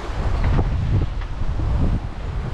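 Wind buffets the microphone over the rush of sea waves aboard a sailing boat at sea near Gibraltar, a continuous loud, rough roar with no voices.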